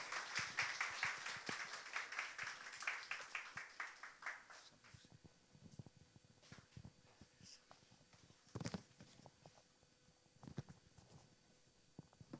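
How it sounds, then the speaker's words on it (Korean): A church congregation claps at a Sunday service to welcome a pastor; dense, faint applause fills the first few seconds, then thins to scattered claps and quiet room noise. "우리 박수로 우리 목사님을 환영하겠습니다."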